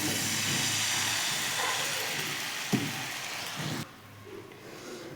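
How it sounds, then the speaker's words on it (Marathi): A steady hiss and bubbling of water with turmeric and salt coming to a boil in a pan, with a brief clank midway before the sound drops to a quieter simmer. "पाण्याला आलेली आहे उकळी"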